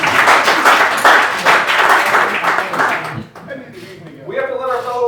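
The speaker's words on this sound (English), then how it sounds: "Let's give a round of applause." A town hall crowd in Muscatine, Iowa breaks into loud, dense applause for about three seconds, then it drops off as a voice begins speaking over the fading claps.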